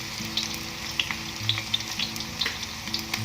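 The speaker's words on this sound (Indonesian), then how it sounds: "Ini saya numis bawang merah" Shallots sautéing in hot oil, a close, lively sizzle with crackling pops and stirring scrapes, no voices, for a jengkol balado dish.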